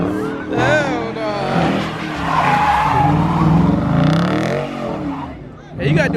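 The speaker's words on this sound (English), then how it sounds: "Hey, you gotta do a burnout first" A car does a burnout after leaving a car meet, its tires skidding and squealing loudly and continuously under excited shouting voices, with engine revving throughout.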